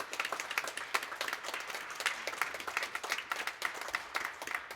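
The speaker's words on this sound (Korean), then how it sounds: "하나님 은혜와 사랑이 있었는데 우리 그 하나님께 감사와 영광의 박수를" A church congregation claps together in steady, dense applause that holds at an even level from start to finish.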